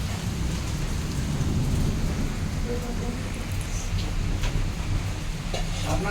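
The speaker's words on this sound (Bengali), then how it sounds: "আপনার পূজাতে বৃষ্টি হয়" Steady heavy rain with a low rumble of thunder pours down during an outdoor Manasa puja, a continuous fairly loud wash with faint voices in the background.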